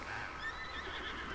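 A horse in the Breath of the Wild video game whinnies, a faint, drawn-out neigh over soft background game ambience, with no voices.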